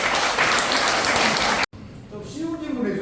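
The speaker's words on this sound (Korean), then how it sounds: "박수 한번 쳐주시죠" An audience claps at a lecture on nuclear energy at a memorial hall, a dense burst of applause that stops abruptly, then someone speaks.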